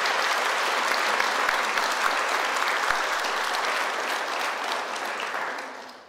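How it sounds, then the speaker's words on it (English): Sustained audience applause at a civil rights anniversary program, a dense, even roar of clapping from a large crowd that holds steady and fades out at the end. "Let's give him a round of applause"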